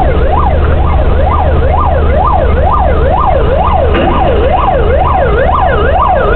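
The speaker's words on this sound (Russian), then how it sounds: "водитель скорой ехал на вызов с маяками и сигнализацией на красный сигнал" An ambulance siren wails loudly and steadily, rising and falling in a fast repeating pattern over low engine rumble, as the ambulance runs a red light on an emergency call.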